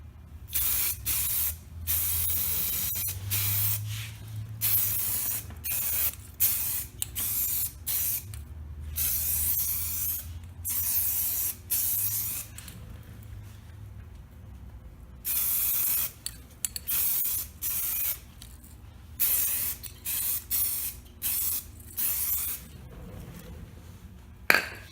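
Aerosol spray paint coating a Foxbody Mustang quarter window cover, loud hissing bursts of a few seconds each, repeated with short pauses between passes, no talking.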